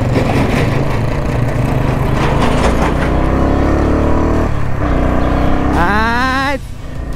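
A Royal Enfield Bullet Classic 350 motorcycle rides at night, its thumping single-cylinder engine loud and close, rising through revs and gear changes with a sharp accelerating whine near the end.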